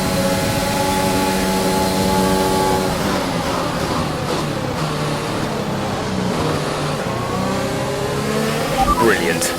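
Race car accelerating on a track, a loud sustained engine roar with a rising, shifting pitch, a voice speaking over it.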